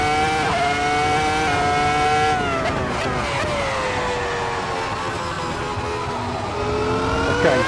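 Racing car engine in Assetto Corsa revving loud and close, pitch sweeping up and down through gear changes with rising and falling harmonic whine, steady and continuous.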